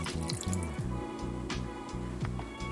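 Broth is poured into a soup pot holding carrots and potatoes, a quiet, close liquid splash with trickling and dripping sounds.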